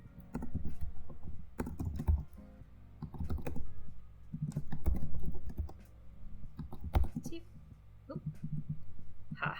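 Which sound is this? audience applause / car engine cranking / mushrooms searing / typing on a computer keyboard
typing on a computer keyboard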